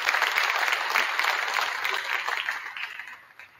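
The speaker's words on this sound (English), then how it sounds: "give her a round of applause" An audience applauding at a state wrestling celebration event, a dense burst of many hands clapping together that holds steady and then gradually fades out over a few seconds.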